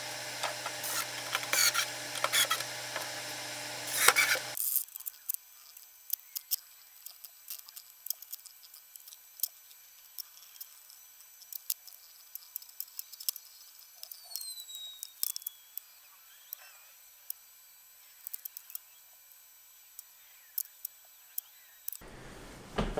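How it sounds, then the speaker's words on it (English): A screw is driven to fix a small razor-blade cutter onto the bottom of a plastic food wrap holder. The first few seconds carry louder rubbing and handling, then a long run of faint, scattered, close clicks and scrapes in near silence. "I'm just going to screw this right onto the bottom here"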